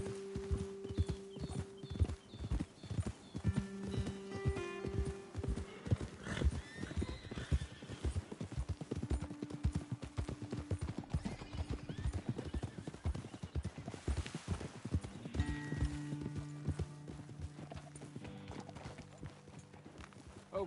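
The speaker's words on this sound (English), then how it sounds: "Best leave the horses back a bit." Horses clip-clopping in Red Dead Redemption 2, a steady rhythmic run of hoofbeats close by with snorts and a whinny, while voices talk over parts of it.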